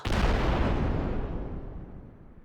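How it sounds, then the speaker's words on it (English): A cannon firing a shrimp: one heavy, booming blast that rolls out into a long decaying rumble, loud and close. "Clearly, this shrimp was fired out of a cannon."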